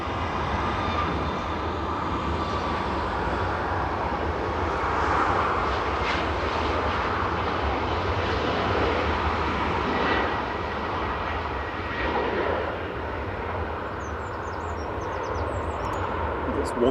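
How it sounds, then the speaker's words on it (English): A TUI Boeing 737 Max 8 jet departs, its engines giving a sustained, loud roar at some distance that holds steady and eases slightly toward the end. "TUI flight 2652 to Reus departing"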